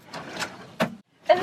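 A cutlery drawer in a self-converted off-grid camper van kitchen slides open in a few short scraping and clattering bursts, close by, with a brief pause before the final knock.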